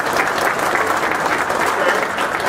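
An audience at a national sales meeting applauds to vote for a group, a steady dense wash of clapping filling the room without pause.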